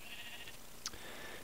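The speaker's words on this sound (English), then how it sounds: "So you can see I have a plethora of sheep" Sheep in the Minecraft video game let out a single brief, faint bleat against a quiet, steady background hum, with no talking.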